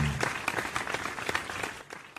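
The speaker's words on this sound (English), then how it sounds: "So we have loud applause." Applause rises from a live music show audience, a burst of crisp hand clapping that is loudest at first and then gradually thins out.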